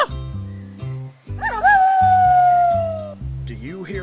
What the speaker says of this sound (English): Who howls like that?